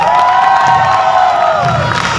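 A crowd at a mobile app launch event cheers and whoops loudly for the app's creators. Sustained, dense and close, the cheering carries shrill voices rising above a continuous roar, with a little clapping mixed in.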